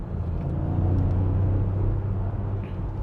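A 2021 Ford Puma ST drives along with its engine held at a steady, low drone and tyre and road rumble underneath, heard continuously from inside the car with no talk.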